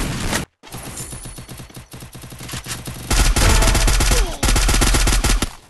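Rapid bursts of video game gunfire crack out in quick strings, sharp and loud, with a brief gap early on and a denser, heavier volley in the second half, during a Grandmaster-rank battle royale match.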